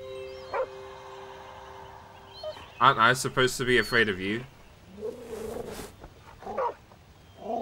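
Puppy barks in the Nightmares from the Deep: Davy Jones game, a quick yip near the start followed by a burst of rapid barks, with someone talking over and after them.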